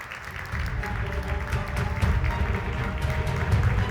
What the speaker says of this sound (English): please give Jesper a very big round of applause